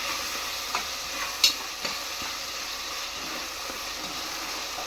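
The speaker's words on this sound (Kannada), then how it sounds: "ಹಾಕಿ ಇದನ್ನ ಸರಿಯಾಗಿ ಕಲಿಸ್ಬೇಕು." Egg biryani ingredients are mixed with salt in a vessel, giving soft continuous stirring and scraping with a steady sizzle-like hiss and a few faint clinks of a spoon, no talk.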